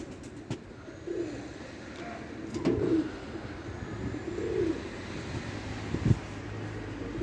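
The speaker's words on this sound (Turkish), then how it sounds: "Bak kümeste de bu kadar kuş var ya." Pigeons coo in a crowded coop, several soft low coos rising and falling at intervals over a dull background hum, with a few faint knocks.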